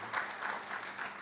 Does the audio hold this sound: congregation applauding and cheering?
yes